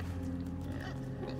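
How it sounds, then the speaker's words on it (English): Low grunting from a pig being pushed around in a video game, steady and continuous with a droning tonal hum beneath it, at moderate level with no talk. "And now I'm pushing this pig around."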